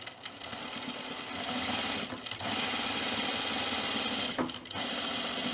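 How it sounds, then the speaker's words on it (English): A sewing machine stitches a small box into fleece fabric, running steadily and close up, with a continuous mechanical whir that dips briefly twice. "we're just gonna stitch this box to stabilize the fabric"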